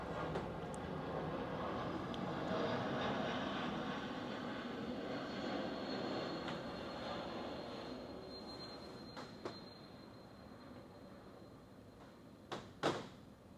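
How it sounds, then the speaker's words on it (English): A distant airplane drones overhead, its broad engine roar slowly swelling and fading, with a few faint clicks and knocks near the end. "Please hold for plane."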